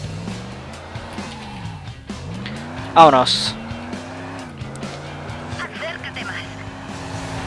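A car in the video game Driver: Parallel Lines drives with a steady engine drone, then a sharp tire squeal rings out in the middle as it turns, while someone talks over it.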